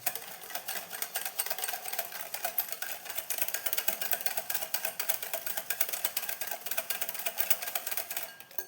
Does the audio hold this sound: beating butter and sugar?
yes